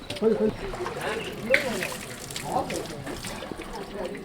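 Water splashing and trickling as cliff road workers wash at their remote mountain lodging, close irregular splashes mixed with voices talking over them.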